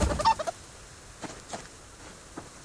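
Chickens in the survival game Subsistence give a quick burst of clucking and gobbling calls at the start, followed by a few scattered fainter clucks against a quiet background.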